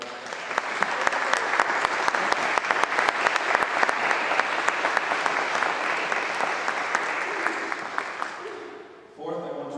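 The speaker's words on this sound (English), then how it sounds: "Can we have a round of applause?" A dense, sustained round of applause from an audience fills the room for about nine seconds, loud and steady before fading, with a voice resuming speaking right after.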